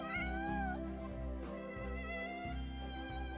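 A cat meows in the Genshin Impact video game, several soft repeated meows set over steady, tonal game music.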